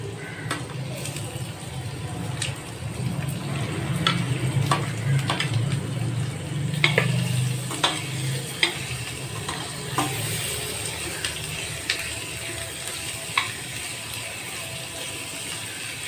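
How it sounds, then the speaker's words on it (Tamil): Chopped large onion sautéing in a pan with ginger for chilli parotta, a constant soft sizzle broken by a steady series of sharp scraping and clicking stirring strokes, close up. "வெங்காயம் பெரிய வெங்காயம் 1 பொடியாக நறுக்கி சேர்த்துக்கலாம்."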